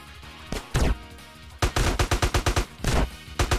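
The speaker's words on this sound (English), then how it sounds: "DJ, what the fuck are you shooting at?" Gunfire in GTA: San Andreas, a quick run of close, loud shots in a steady rhythm, with a few isolated reports before the burst and a couple more after it.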